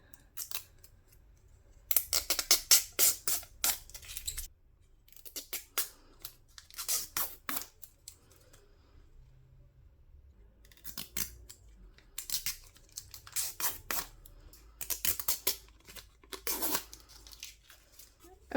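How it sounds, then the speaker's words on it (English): Protective film peeled off an acrylic sheet in repeated short crackling, tearing bursts, close and crisp, separated by quiet pauses. "Let's peel this off and see how it looks."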